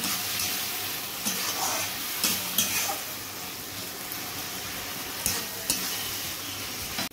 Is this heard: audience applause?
no